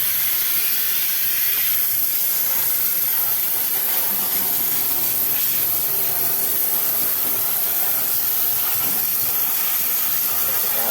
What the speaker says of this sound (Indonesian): Lanjut ntar kita semprot pakai bensin ya, buat ngilangin bekas-bekas olinya